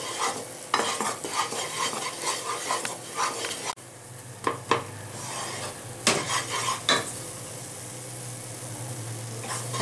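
A spoon scrapes and stirs a thick powdered-milk sandesh mixture around a pan on the stove, with steady gritty rasping strokes, a few sharper clinks against the metal, and a quiet pause midway before stirring resumes.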